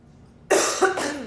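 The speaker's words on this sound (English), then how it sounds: "My apologies for my coughing." A sharp burst of coughing, two or three rough hacks in quick succession, close and fairly loud after a moment of quiet.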